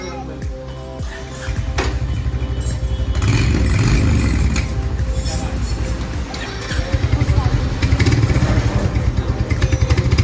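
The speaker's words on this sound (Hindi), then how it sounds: "पहली राइड करेंगे नई बाइक की।" Royal Enfield Hunter 350 motorcycle pulling away on its first ride after delivery, a steady close engine rumble that builds and revs up, with background chatter and clatter around it.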